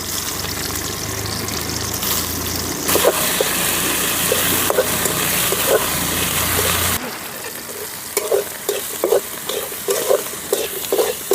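Chopped banana flower being stir-fried in a pan, a steady sizzle with scraping and tossing sounds that turns quieter partway through, leaving rhythmic stirring scrapes; no talking.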